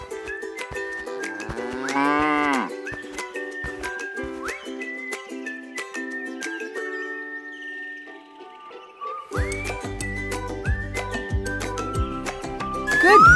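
Cartoon cow mooing, a young cow on a farm, heard as a drawn-out rising moo near the start over light music, followed by playful whistling and a livelier musical passage.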